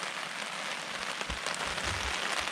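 Steady rain patters on a surface nearby at a campsite, a dense continuous hiss with no voices.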